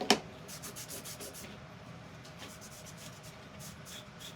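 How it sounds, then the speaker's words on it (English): Clear paste wax is rubbed by hand onto a wooden project with a cloth, giving a soft, rhythmic swishing of quick strokes, faint and close, after a brief tap at the start. "Okay, so I'm putting some wax on this, so that the transfer doesn't stick so hard"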